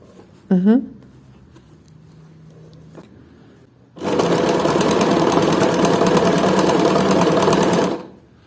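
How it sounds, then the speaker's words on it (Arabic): Sewing machine stitches along a curtain edge in one long, loud, steady run of rapid needle clatter, close up, after a few quiet handling noises. "هبدأ اخيط الجزء التاني اللي هو الطرف التاني"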